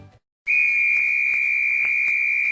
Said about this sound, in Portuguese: O som do apito é um som agudo